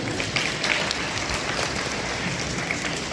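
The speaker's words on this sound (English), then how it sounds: "Everybody, round of applause for Caleb, please" An audience at a family wildlife show bursts into sustained, even applause, a dense wash of clapping with no clear talk over it.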